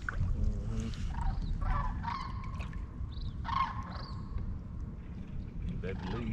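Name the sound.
geese honking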